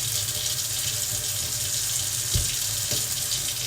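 Cold water pours steadily from a tap into a shisha base, a continuous close splashing rush with a couple of brief clunks near the end.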